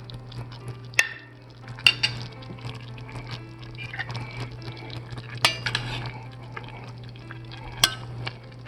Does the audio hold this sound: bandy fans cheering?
no